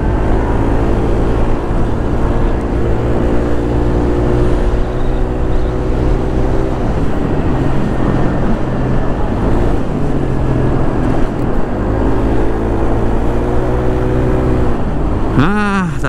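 Yamaha Nmax scooter riding along a coastal highway, with a steady loud engine drone and wind rush throughout and the engine pitch rising and falling as it accelerates.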